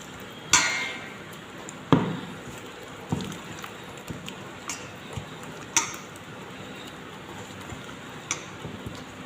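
Biscuit paste is stirred with water in a bowl. A utensil makes sharp, irregular clicks and taps against the container, spaced a second or two apart over a quiet background.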